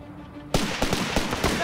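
Small arms fire in the strategy game Company of Heroes 3 erupts suddenly after a quiet moment, a rattle of close, sharp shots in quick irregular succession, with battlefield voice callouts mixed in.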